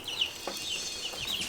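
A homestead chicken gives a few soft, brief clucks and chirps close by, steady and unhurried, with no voices.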